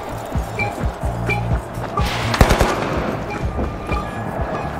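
A sniper rifle fired from the hip in The Finals gives one loud, sharp report midway, with lighter in-game clicks, footsteps and ambient game noise around it and no talking.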